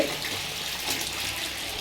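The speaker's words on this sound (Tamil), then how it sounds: "தண்ணி தான் முதல்ல வருது" Water gushing out while a large batch of food is cooked for a birthday lunch: a loud, steady rushing pour, close and continuous without pause.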